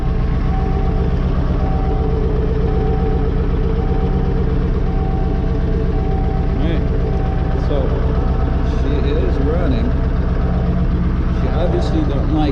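An OBS Ford 7.3 diesel truck engine runs rough just after a cold start on a frigid day without a block heater, a loud, close, steady low idle clatter that continues throughout, with a few faint higher squeaks late on.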